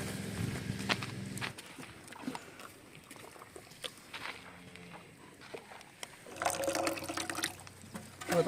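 Water poured out for cows to drink, a splashing, trickling pour with shuffling footsteps and knocks around it, stronger at the start and again near the end.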